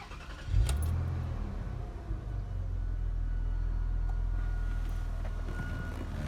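A 2002 Rover 75 Connoisseur with a 2.5 V6 engine starts and settles into a smooth, steady idle, heard close and alone.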